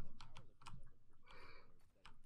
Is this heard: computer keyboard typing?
yes